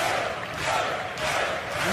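A large arena crowd roars and cheers continuously at a European Championships table tennis final, a dense loud wash of voices with no pauses.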